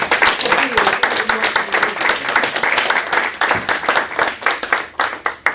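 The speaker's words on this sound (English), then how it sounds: "give yourselves a warm, rousing hand clap" A room of women at a leadership event claps in a warm, rhythmic round of applause, distinct close hand claps with some voices cheering beneath them.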